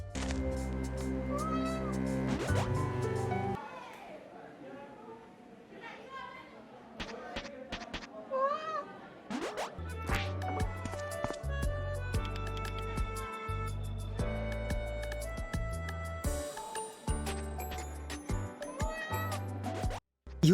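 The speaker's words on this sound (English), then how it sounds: "You can pet and name like 20 cats." Several cats meow in the video game A Space for the Unbound: short rising and falling mews come one after another over steady background music, with a louder run of game sounds later on.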